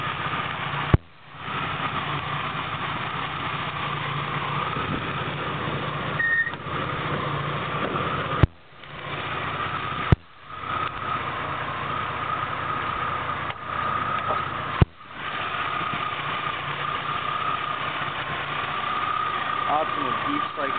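A 1990 Jeep Cherokee's 4.0 engine idles steadily under an open hood, a constant low hum with a few sharp clicks and brief dips, and a person talks over it throughout.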